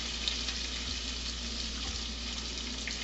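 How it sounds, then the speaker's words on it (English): A hot dog fries in bacon grease in a frying pan, giving a steady faint sizzle and crackle over a low background hum, unbroken and with no voices. "I'm putting my hot dog in the bacon grease in my frying pan, and I'm going to let that cook down"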